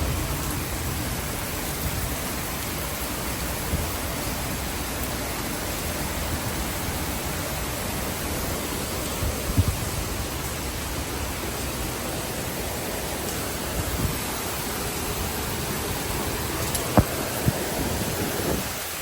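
Heavy rain pours down in a strong storm wind in Singapore, a dense, unbroken roar filling the whole stretch with only faint scattered knocks on top.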